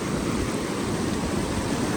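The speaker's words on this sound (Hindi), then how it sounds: "पानी की लहरों के साथ हवा फुल ठंडी लग रही है" Water waves with cool wind at a waterside spot: a dense, steady rushing wash of surf and wind noise, loud and close, with no talk over it.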